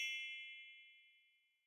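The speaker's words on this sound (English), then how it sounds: "A soft tinkling sound filled the air." A soft magical fairy chime rings out, a single bright bell-like tinkle that sustains and slowly fades away, quiet and alone.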